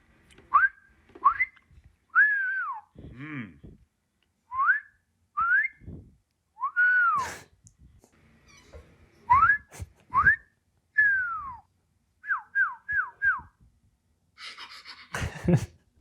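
A person whistles a series of short, sliding, swooping notes in irregular bursts, close and clear, with audible breaths between phrases and a noisy burst at the end.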